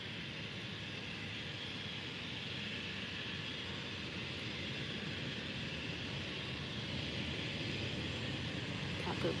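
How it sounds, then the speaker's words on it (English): A TAP Portugal Embraer E190 airliner taking off at Málaga Costa del Sol Airport, a steady broad jet roar held at constant loudness from some distance, swelling slightly toward the end. "Here comes the TAP Embraer E190 going to Lisbon"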